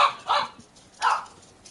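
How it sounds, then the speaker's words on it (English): A dog barks in short, sharp bursts, close and loud, with a couple of barks in quick succession, a pause, then another bark and a fainter one at the end. "Why must you bark?"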